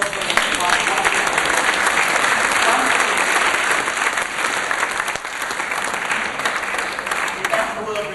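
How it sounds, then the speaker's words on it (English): Sustained, dense applause from a conference audience at a keynote talk in London fills the whole stretch, steady and loud with no pauses. "A round of applause for the"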